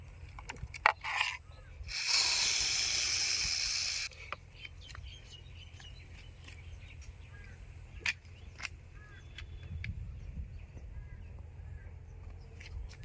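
WD-40 anti-rust spray hisses onto an old rusty lock in one steady two-second burst, close and fairly loud, followed by faint handling clicks and taps.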